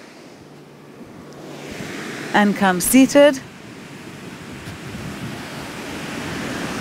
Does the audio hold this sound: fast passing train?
no